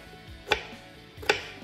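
A knife chops through ripe strawberries, two crisp separate cuts about three-quarters of a second apart, close by and with no talk.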